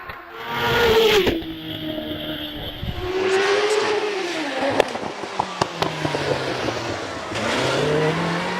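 A GR59 hill climb race car with a 3.3 litre NME engine at Prescott revs hard and shifts through gears, engine pitch rising and falling loudly with crackles and pops as it climbs nearby.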